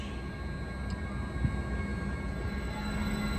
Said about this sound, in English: Railfanning at Redwood City. The Stellar EMU electric train.